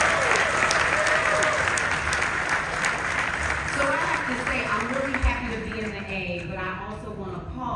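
Sustained applause fills the room at an HRC Atlanta dinner gala, a dense steady wash of many hands clapping close by, with voices and cheers mixed in beneath it throughout.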